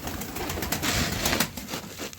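Pigeons coo in a dovecote amid a busy, noisy background of rustling and bird activity, the soft coos mostly buried under broadband clatter, with no talk.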